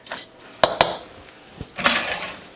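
Spring roll filling mixed in a bowl, heard as sharp clinks and knocks of utensils against the dish with softer scraping between them, close and isolated.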